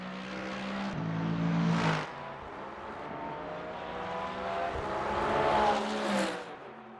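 Porsche and Mercedes race cars in a 4 Hours of Le Mans racing video game, engines whining and revving as they pass close by, with a pitch drop as one car sweeps past, alone without talk.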